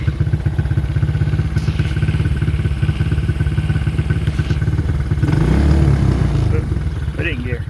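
Chinese four-wheeler ATV engine running close by, a steady rattling idle that swells into a brief rev partway through before settling back, loud and continuous.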